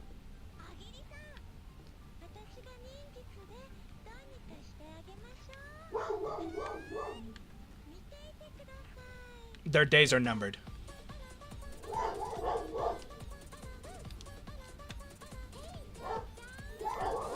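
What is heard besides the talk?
dogs barking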